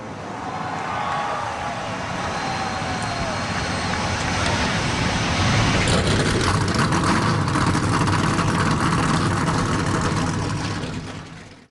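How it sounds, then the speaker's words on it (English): Race truck engines firing up and rumbling at a Phoenix truck series race in a game, a dense low roar that swells and grows louder around the midpoint and holds steady to the end. "Drivers, start your engines."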